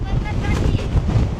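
Strong wind at the Golden Gate Bridge buffets the microphone with loud, low rumbling gusts that roar continuously across the whole moment.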